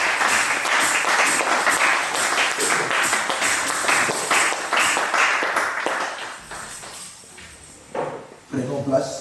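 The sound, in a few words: congregation applauding in church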